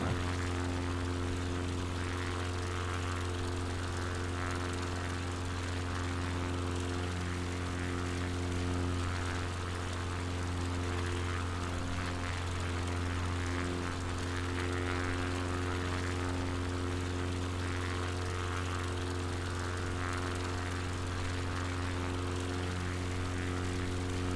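A propeller plane engine in MS Flight Simulator drones steadily and evenly for the whole stretch, a constant hum with strong low tones and no talk over it.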